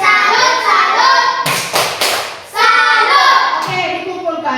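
A primary school class claps the rhythmic 'tepuk salut' salute in a few sharp, loud bursts, and teacher and children speak before and after.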